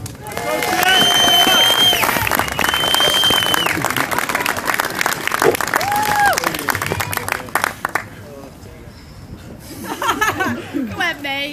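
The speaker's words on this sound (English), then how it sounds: "Please give him a round of applause." Crowd applause at an anti-fracking rally in Ellesmere Port, loud and sustained for several seconds with cheers, whistles and laughter mixed in, then tapering off before a lone voice begins.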